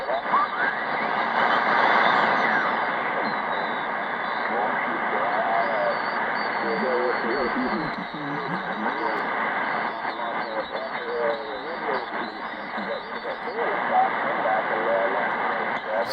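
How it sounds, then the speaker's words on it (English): A portable shortwave radio receives a single-sideband signal while its BFO is tuned, giving a steady hiss and garbled warbling voice tones that slide up and down in pitch. "you can hear, as I tune the BFO, it goes up and down"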